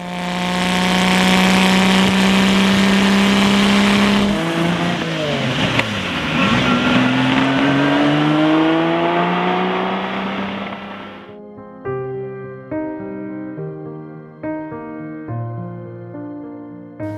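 A loud, high-pitched Lamborghini Miura engine whine holds steady, rising and falling as it revs, then cuts off into quieter, stepped mechanical tones near the end.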